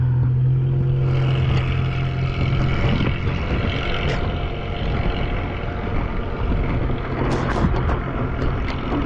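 A Polarna X-01 is ridden under throttle over a big hill, with a steady motor drone and low hum blended with continuous wind buffeting across the ride.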